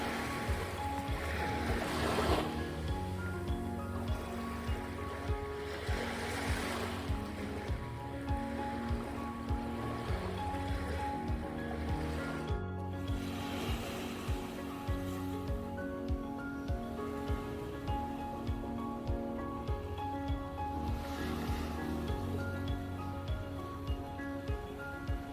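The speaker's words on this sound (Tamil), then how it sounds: "அந்த மார்னிங் டைமில் வெறும் அலை சவுண்டு மட்டும்தான்" Steady surf washing onto a Maldives beach on a quiet morning, a continuous broad wash with gentle swells rising and falling, no voices over it.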